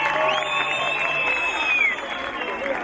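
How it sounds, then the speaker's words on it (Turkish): Applause from a concert audience for a music teacher, steady crowd clapping filling the room with a whistle-like tone running over it and faint talk underneath. "Alkışlıyoruz hocamızı"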